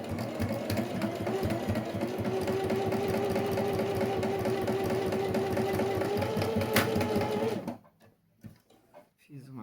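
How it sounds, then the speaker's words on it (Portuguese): A domestic sewing machine runs a steady, continuous stitch along a seam on the right side of the fabric, humming loudly and evenly for several seconds before stopping abruptly, followed by faint handling clicks. "agora a minha agulha está para o lado direito do material e eu vou fazer a costurinha"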